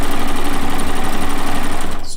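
A sewing machine quilting a quilt runs steadily and loud, a rapid even needle rhythm for about two seconds before slowing at the end.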